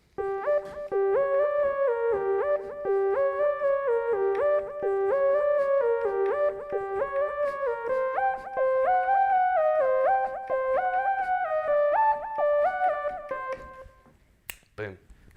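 A simple easy piano song played through at an even pace, clear melody notes over held tones, close and steady, with a brief knock at the end.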